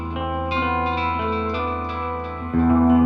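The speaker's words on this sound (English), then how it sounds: "I love the Space Echo. It's probably one of my favourite pedals" Guitar played through a Space Echo tape echo and a Boss GP-10 sounds sustained notes with repeating echoes and reverb, loud and smeared into a continuous wash, with a new note struck near the end and no voices.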